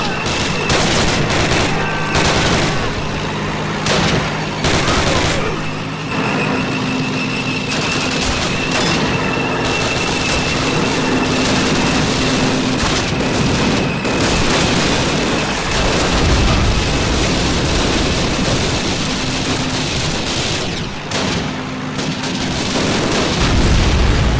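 Sustained machine gun fire aimed at German Panzer tanks in the 2003 Call of Duty, rapid rattling bursts over a dense roar of battle with booming explosions and distant artillery throughout, loud and close with no speech.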